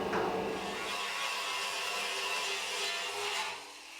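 An angle grinder works thin metal on a Messerschmitt body, a loud, close, continuous rasping whine that eases off near the end.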